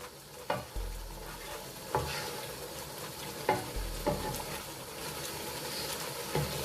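Chicken korma frying in a pot, a constant sizzle broken by several sharp scraping stirs of a spoon at irregular intervals, close and clear with no talking.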